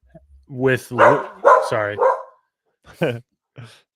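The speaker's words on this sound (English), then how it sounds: "Both of our dogs are barking." Two dogs bark at home in several loud, close, rough barks in a burst, followed by a couple of shorter yips after a pause, heard without talk.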